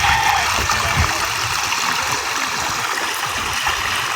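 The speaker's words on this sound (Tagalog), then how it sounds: "Tawid na naman tayo dito sa ilog." A river flows steadily nearby, a continuous rushing, gurgling wash of water with no voices over it.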